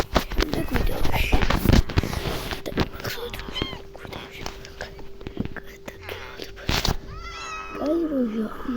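A cat meows, with a couple of drawn-out calls near the end, mixed with people talking and handling noises nearby.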